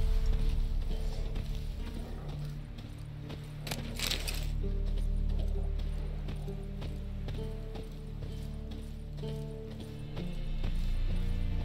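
Roach, the horse in The Witcher 3, gallops with a steady rhythmic clip-clop of hooves, close and prominent over low game ambience and scattered clanks.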